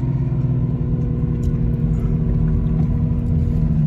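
A Toyota MK3 Supra project car drifting with its tires spinning, heard from inside as a loud, steady engine drone and low rumble held at high revs throughout, with no voices over it.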